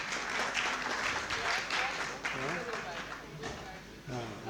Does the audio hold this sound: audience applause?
yes